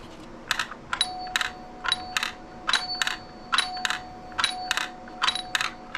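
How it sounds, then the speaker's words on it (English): A Ford or Lincoln door chime striker clicks against its plastic housing in a rhythmic series of short, sharp taps with faint ringing tones, close and repeated roughly every half second. "you're going to hear it hitting the plastic every time it goes back."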